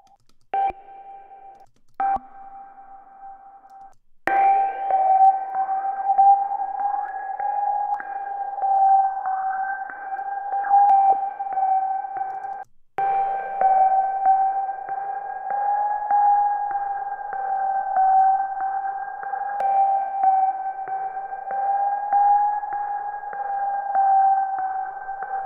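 A filtered dubstep synth holds a sustained, wobbling tone with sweeping filter movement. It enters after a few short stabs, is briefly cut once, then continues steadily to the end with no voices.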